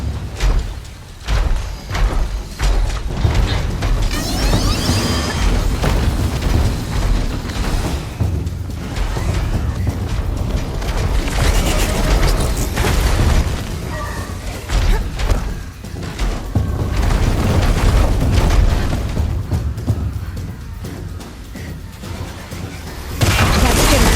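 A platform collapses in Horizon Zero Dawn with heavy rumbling booms, thuds and grinding mechanical crashes that continue loudly for a long stretch, with voices briefly heard in between.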